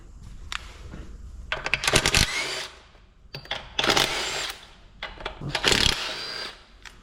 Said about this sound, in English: Now take my impact, rip out those bolts.